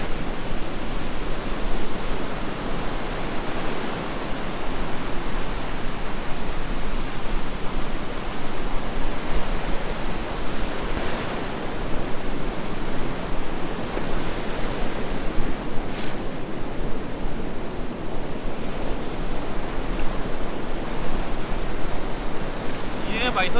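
Sea waves at Kund Malir beach in Balochistan, a loud, continuous wash of surf with wind noise, steady and close for the whole stretch, with faint voices buried beneath.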